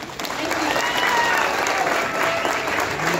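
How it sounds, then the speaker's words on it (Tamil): Applause from an audience at a movie trailer launch event, steady dense clapping that swells quickly and holds evenly for a few seconds, with a voice faintly audible beneath the crowd. "ஒரு நல்ல கைத்தட்டல் கொடுத்துலாம்"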